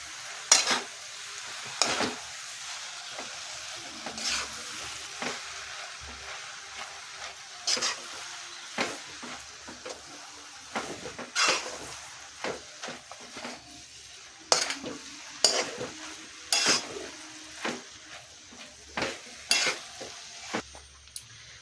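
Noodles being stirred in a pan with paneer, garam masala and vegetables: a low sizzle under a string of sharp metallic scrapes and clinks from the utensil against the pan, coming in irregular bursts, close and otherwise quiet.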